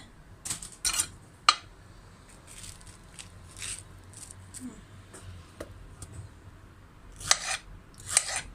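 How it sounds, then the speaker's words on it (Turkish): A knife taps and clicks irregularly against a cutting board while peaches are diced into cubes, with quiet gaps between the sharper cuts. "Şimdi sıra küp küp doğramaya geldi."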